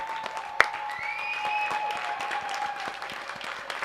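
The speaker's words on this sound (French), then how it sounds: "On est la seule radio qui fait 3 minutes d'applaudissements." Studio audience at a radio show clapping steadily, a dense patter of hands with a sharp loud clap near the start and a faint whistle-like tone running underneath, no talking.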